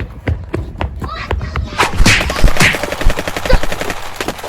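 Rapid automatic gunfire in the video game PlayerUnknown's Battlegrounds, with sharp shots at first and then a dense, loud burst of fire, with some thumps mixed in.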